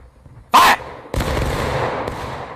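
Musket volley in the War of Rights video game, fired on command: one sharp, loud burst of many shots at once, then a rolling, echoing rumble that fades over the next second and a half.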